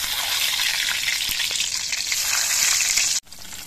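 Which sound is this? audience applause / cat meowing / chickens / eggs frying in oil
eggs frying in oil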